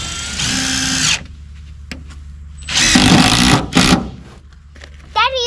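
A power drill drives screws into plywood on a canoe pontoon platform in three short bursts, first a longer whirring run, then two quicker ones, close and loud with quiet gaps and faint voices between.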